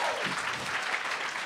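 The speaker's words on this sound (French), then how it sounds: "Ben, applaudissez-les" Concert audience applauding during a live show in Montréal, a steady dense wash of clapping filling the whole moment, fairly close and even in level.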